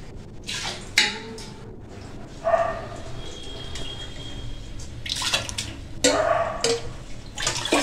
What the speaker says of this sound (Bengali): বাসন বাসন গুলো একটু মেজে নিই